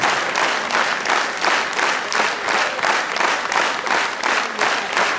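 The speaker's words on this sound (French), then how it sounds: "Je vais continuer à applaudir, c'est important." An audience at an awards ceremony claps continuously in a steady, pulsing rhythm, a full room of applause at even volume with no speech on top.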